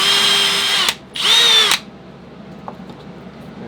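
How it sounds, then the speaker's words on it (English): Power drill boring a hole through a wooden stick whistle, two loud whining bursts separated by a brief pause, the motor pitch dipping as the bit bites into the wood, followed by quiet room tone. "So now I'll just drill a hole through here"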